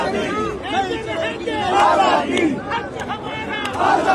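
PTI protesters outside Adiala Jail, a dense crowd of voices chanting and shouting slogans together in rising and falling waves, loud and close throughout with overlapping cries.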